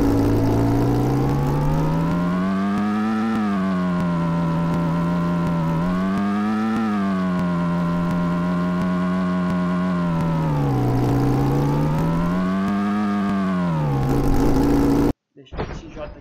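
A car engine in a video game revs in rising and falling waves, loud and steady, with a brief mechanical clunk as it cuts off at the end.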